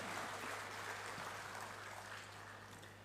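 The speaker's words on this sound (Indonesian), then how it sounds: "berikan tepuk tangan kepada Bapak Edi Rahmayadi" An indoor crowd at a political party leadership inauguration in North Sumatra applauds for the provincial governor, a steady, fairly faint wash of clapping that fades slightly toward the end.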